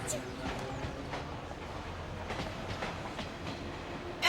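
Train from the video game Legend of the Mystical Ninja rolling through a crowded evening station, a steady rumble with soft rhythmic clatter, with voices talking over it.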